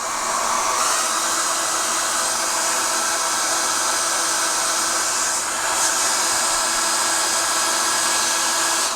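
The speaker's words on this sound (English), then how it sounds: "then I get a hairdryer and melt it" A hair dryer blows steadily and loudly throughout, melting wax into a carved wooden mirror frame, a constant whooshing roar with a slight shift in pitch midway.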